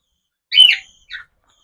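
Pet cockatiels, budgerigars and finches kept for sale, heard as two short bright chirps, the first louder and longer, the second softer, with silence around them.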